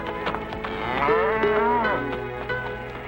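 Gray bucking bulls on a ranch low loudly in a long drawn-out moo with rising and falling pitch, near and clear, over a faint background of other cattle and ranch noise.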